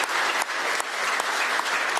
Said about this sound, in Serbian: jedan aplauz i za njega